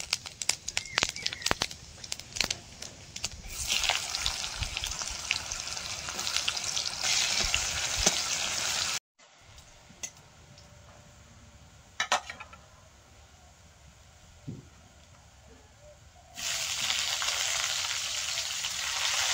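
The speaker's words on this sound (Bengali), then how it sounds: "তেলের মধ্যে 5 ফোড়ন আর পেঁয়াজ দিয়ে দেবো।" Onion and panch phoron frying in hot oil for a prawn curry, giving a loud crackling sizzle with stirring clatter. The sizzle drops off into a quieter stretch of scraping and then returns strongly.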